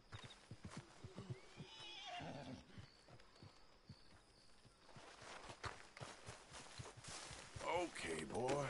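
A horse in Red Dead Redemption 2 whinnies amid clopping hoofbeats, with a second neigh near the end; a voice murmurs faintly underneath.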